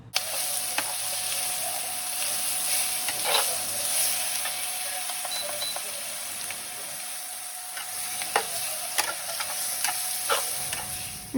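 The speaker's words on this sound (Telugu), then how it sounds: "సో లో ఫ్లేమ్లో పెట్టుకొని సో ఫ్రై చేసుకోవాలి, లేకపోతే మాడిపోతుంది." Ginger garlic paste fries on a low flame for egg fried rice, giving a soft, steady sizzle with a few scraping stirs and light clicks from the pan, fairly quiet and without any talk.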